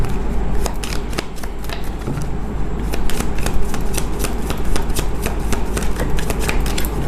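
A deck of tarot cards being shuffled, with continuous riffling and flicking snaps in quick succession, loud and close, with no speech.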